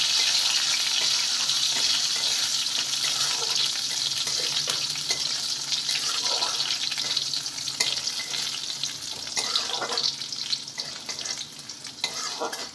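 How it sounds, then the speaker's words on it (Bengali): Chopped garlic, whole cumin and dried chilli frying in oil as a tempering, a bright steady sizzle with intermittent stirring scrapes nearby, growing slightly busier toward the end, no voices. "একটু বাদামি করে ভেজে নেবো রসুনগুলো"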